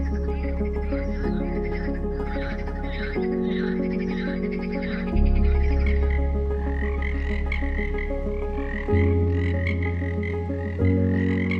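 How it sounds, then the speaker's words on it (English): Marsh frogs (Pelophylax ridibundus) croak in loud, rapid rattling bursts, several overlapping calls repeating continuously at close range with no talking. "The marsh frog. Pelophylax ridibundus is a species of frog commonly found in Europe and parts of Asia."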